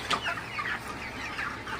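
Thirty-day-old broiler chickens, distressed by intense afternoon heat, cluck and call close by in a steady overlapping chorus with no talk.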